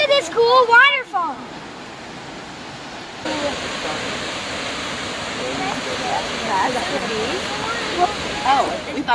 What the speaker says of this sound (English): Look at this cool waterfall.